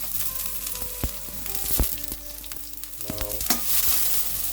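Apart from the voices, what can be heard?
garlic, ginger and spring onion frying in a hot wok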